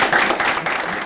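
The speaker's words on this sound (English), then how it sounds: "can we just give a massive round of applause?" A large audience at an expert panel event gives a massive round of applause, a dense, steady wash of many hands clapping at once, loud and continuous for the whole second.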